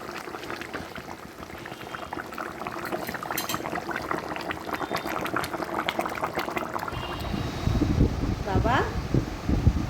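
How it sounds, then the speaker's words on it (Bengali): Lentils (dal) boiling in a pot, a dense bubbling and simmering that builds into louder, deeper blurps toward the end, close up, with someone talking over it. "আর এখানে ডালটাও আমার সেদ্ধ হয়ে এসছে।"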